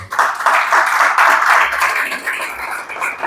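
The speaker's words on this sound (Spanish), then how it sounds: "¿Cuántos pueden darle un aplauso al Señor?" A church congregation applauds together during a Spanish-language evangelical service, a steady wash of dense clapping that fills the room from start to finish with no voices on top.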